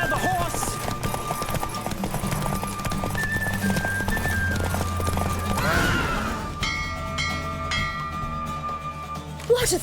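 A horse in The Witcher 3: Wild Hunt galloping through a race, hoofbeats and a loud neigh over game music, fading out near the end as the race finishes and the scene shifts.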